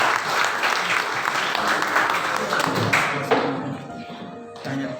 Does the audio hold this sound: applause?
yes